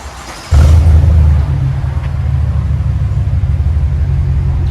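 A GMC Sierra Denali with a 6.2L V8 and its muffler cut off idles close by, a deep steady low rumble that kicks in abruptly and then holds loud and even with a slight pulsing throb.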